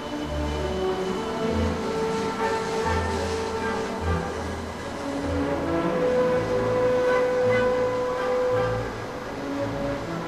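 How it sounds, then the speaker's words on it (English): Train carriages speed along with a steady, dense rumble and rushing whoosh, loud and continuous for the whole stretch, with faint tonal hums rising and falling and no voices. "The whisper of the speeding carriages is complemented by the hush of the passengers."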